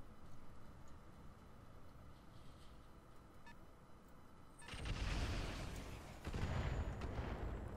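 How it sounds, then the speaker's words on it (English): Artillery fire in Roguetech lands as heavy booms in the middle of the clip, loud and broad-band, after a quieter stretch of steady mechanical hum. "We do not do so well with artillery."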